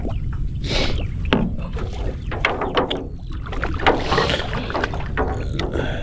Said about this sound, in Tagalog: Ang kaganda, nakasakay tayo ng bangka